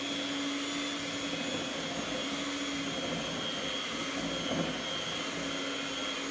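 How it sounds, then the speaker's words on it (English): Electric mixer runs on its lowest setting, mixing icing sugar for a chocolate cake, giving a steady, close motor whir with a constant hum and faint higher tones throughout, with no talking over it. "So we'll turn it on low first of all, so just on to number 1, and just start mixing very gently."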